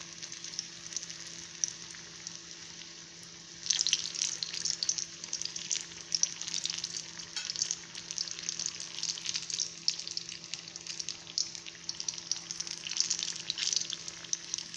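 Ripe plantain fritters fry in hot oil on a stove: a quiet start gives way to a steady, close, bubbling sizzle with fine crackles that carries on with no one talking.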